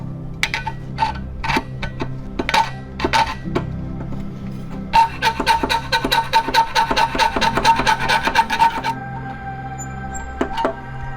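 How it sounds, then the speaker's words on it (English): A regular hacksaw cuts a small groove in a metal part on an AE86 suspension job, a close run of rhythmic rasping strokes in two bursts with brief pauses between. "Usually just use a regular hacksaw, a little groove right through there."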